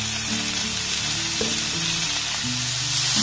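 Grated potato and carrot frying in a pan over a low gas flame sizzle loudly and continuously up close, with faint ticking and tonal hum underneath and no speech.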